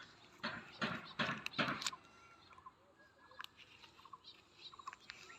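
Bird calling beside a pond at a home in Nazirabad, Bangladesh, a few short chirps and whistles heard faintly after some louder rustling bursts, over a quiet outdoor background.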